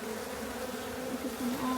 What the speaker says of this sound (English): Look at all these bees.